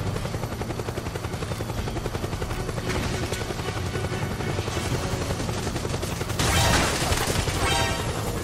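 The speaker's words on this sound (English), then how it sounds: "There's a helicopter again." Helicopter in Metal Gear Solid 4 with steady rotor drone under dense gunfire and explosions, a loud crash bursting in near the end, no talk.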